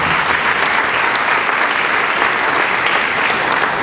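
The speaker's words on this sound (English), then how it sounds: "Let's give her another round of applause." Dense, sustained applause fills a hall at a Founders Day convocation, a steady roar of many hands clapping at once, loud and continuous with no speech over it.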